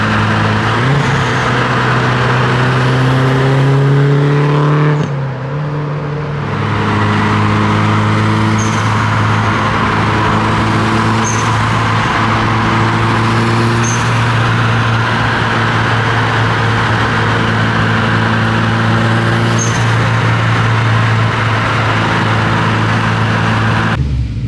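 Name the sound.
car engine revving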